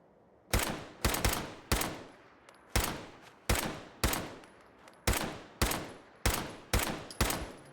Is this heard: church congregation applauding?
no